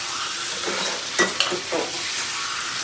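Meat fries in a small pan with a constant soft sizzle, and a few sharper scrapes mark it being stirred.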